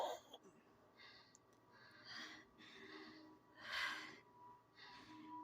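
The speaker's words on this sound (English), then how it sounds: "her breathing sounds different than her normal voice when she talks" Heavy, ragged breathing from an injured female character in the horror game Fatal Frame III, a string of breathy gasps and wheezes repeating every second or so over a low ambient drone.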